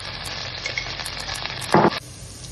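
Garlic and corn sauté in a pan for penne pasta: a steady close sizzle, then a short louder scrape of stirring before the sizzle settles quieter.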